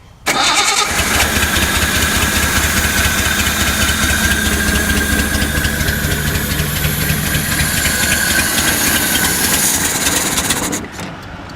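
A 1974 Datsun 260Z engine runs loud and steady while fed by only one carburetor bank, a constant rough roar with hiss that holds for about ten seconds before cutting back.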